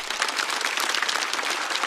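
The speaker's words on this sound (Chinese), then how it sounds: "再次掌声送给杨欣" A studio audience applauds a stand-up comedian at a comedy show, a dense, even wash of clapping held at full strength throughout.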